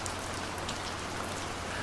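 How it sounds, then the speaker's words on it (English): Steady rain falls as a dense, even hiss with no breaks, faint and constant throughout. "rain falls relentlessly from above"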